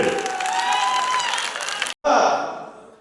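A crowd applauding with cheering voices mixed in; the noise cuts out briefly, then resumes loudly before tapering off.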